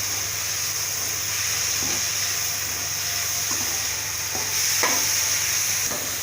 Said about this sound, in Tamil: இப்போ நம்ம பாவக்காய் போட்டுக்கலாம். பாவக்காயும் நல்லா இன்னும் கொஞ்சம் வணக்கிக்கலாம்.